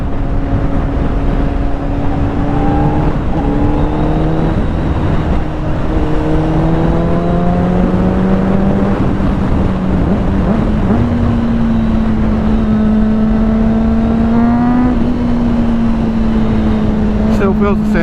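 A motorcycle engine runs loud and close, its revs climbing and shifting through gears over a constant rumble, with wind noise throughout.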